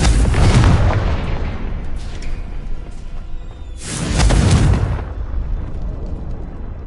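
Two heavy booming blasts of the Confringo explosion spell from Hogwarts Legacy hit about four seconds apart, each a loud burst that rumbles and fades out.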